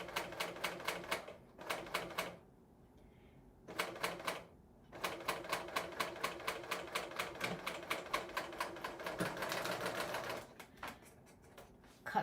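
A serger stitches a zipper insertion around a corner in quick rapid-fire bursts, pausing briefly between runs and then running longer stretches, close and clear with no talking.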